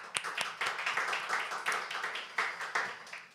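Audience members clap to close a presentation and discussion at a Korean literature academic conference; a moderate group applauds in uneven waves with distinct individual claps standing out, heard at a medium distance for a few seconds.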